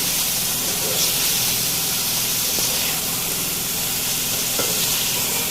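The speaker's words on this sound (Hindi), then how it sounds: "अब मैं इसके अंदर अपनी फ्राई की हुई प्याज और भिंडी शामिल करूँगी जो मैंने फ्राई की थी।" Fried onion and okra are stirred into a pan of sizzling masala, giving a loud, steady frying hiss that runs continuously throughout, with faint scraping stirs underneath.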